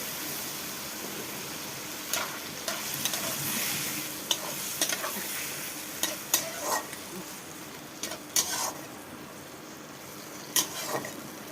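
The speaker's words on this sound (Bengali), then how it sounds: "মাখিয়ে রাখা মাছটা আমি তেলের মধ্যে কড়াইতে তেলের মধ্যে দিয়ে দিচ্ছি" Marinated lote fish frying in hot oil in a wok gives a steady, busy sizzle with crackling pops and occasional utensil clinks, with no talking.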